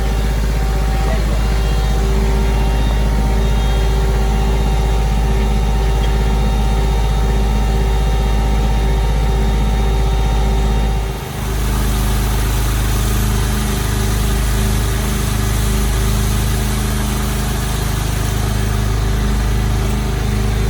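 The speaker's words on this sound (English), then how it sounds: "we're putting the bit on and fixing to start drilling" Loud diesel engine of a water well drilling rig running steadily at a mission site, a constant heavy drone that shifts to a deeper, rougher pulsing tone partway through as the bit is fitted.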